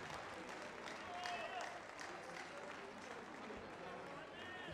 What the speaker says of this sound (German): Also, ich bin noch Applaus für unseren Herrn Oberbürgermeister.